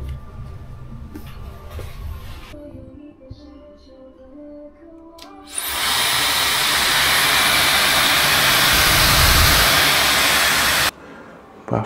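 A hotel bathroom exhaust fan in Changsha's Yiju 1983 Hotel switches on abruptly after a quieter stretch, running as a loud, steady whooshing hum for several seconds before cutting off sharply.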